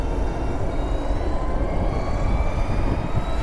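A Harley-Davidson LiveWire electric motorcycle accelerates with a steady loud whine that rises slightly in pitch over road and wind rush, continuous throughout with no talking.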